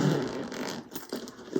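A zipper on a small Lettie mini bowler bag is pulled open in one quick, close rasping run, with a brief pause and then a short extra tug at the end.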